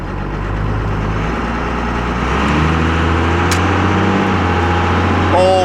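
A truck fitted with aftermarket delivery valves idles loudly and steadily up close, a deep, even engine drone with a slight shift in pitch partway through.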